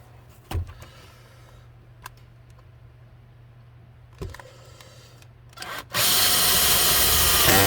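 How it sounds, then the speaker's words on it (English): A power drill bores a hole through a leaf blower nozzle for a pop rivet repair, with a few faint clicks and taps before the drill starts loud and close near the end. "Alright, drill my other hole."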